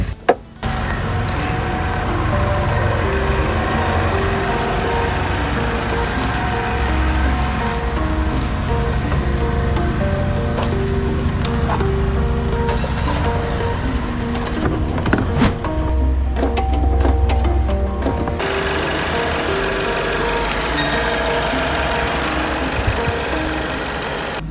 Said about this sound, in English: I believe it's a 2016 Jeep Compass. It does have something weird going on with the AC. Check engine light on. It sounds pretty good running,